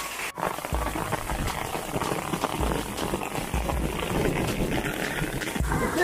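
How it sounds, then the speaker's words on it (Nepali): Hailstones pelt down outside a school in Dandabazaar, covering a badminton court, a continuous fine patter and rattle on surfaces, moderately quiet and steady, with no voices. "अझै सिल आउँदैछ, असिना परिरहेछ।"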